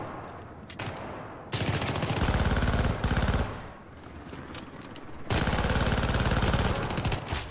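Sustained automatic gunfire in the video game Syndicate, dense rapid bursts that run loud for a few seconds, pause briefly, then resume at full intensity.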